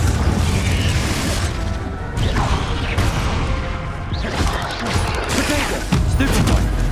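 Confringo blasting spells go off in the Hogwarts Legacy video game amid combat, loud repeated booms and crashes layered with other spell effects, dense and continuous, with shouted spell calls mixed in.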